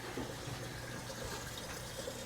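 Steady stream of water pouring into a fish tank in a fish room, a faint, even rushing and trickling wash over a low hum.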